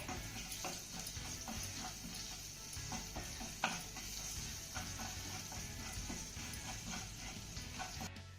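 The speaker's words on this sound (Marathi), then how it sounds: "आता ही फोडणी आपल्याला चांगली परतून घ्यायची आहे" A Marathi phodni of cumin, asafoetida, green chillies and curry leaves is sautéed in oil for a bhindi dish, with a soft continuous sizzle and a steady series of spatula scrapes and taps, one sharper knock near the middle.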